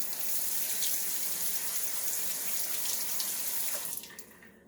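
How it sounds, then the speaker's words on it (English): Fresh tap water runs steadily over fermented heirloom tomato seeds held in a sieve, a constant close splashing rush that cuts off near the end. "Just take some fresh water and we're just going to rinse them."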